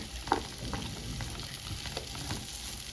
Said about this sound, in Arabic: هجيب بقى كده فلفلايه متقطعه كبيره، تمام، وهقلب كده مع الفراخ